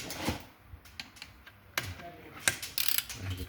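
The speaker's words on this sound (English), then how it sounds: "When the torque wrench clicks," A torque wrench with an E10 socket tightens main bearing caps on a Ford engine to 15 Newton meters, giving faint, close ratcheting clicks and a sharp click near the end among quiet workshop noise.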